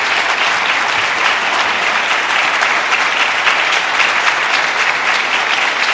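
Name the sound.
congregation clapping hands for Jesus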